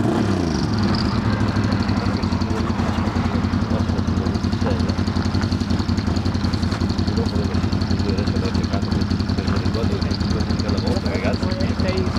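A motorcycle engine idles steadily with a low, throbbing rumble throughout, loud and close, with no talking.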